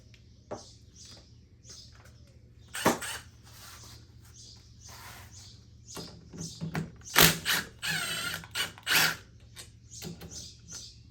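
Ratcheting socket wrench working on a Honda Recon ATV, giving bursts of quick metallic clicking that start and stop, louder clusters later on, with no talking.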